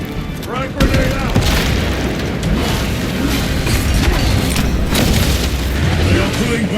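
Frag grenade going off in Warhammer 40,000: Space Marine 2 combat against Tyranids, a sharp boom followed by a loud, sustained roaring rumble of battle noise, with voices shouting over it.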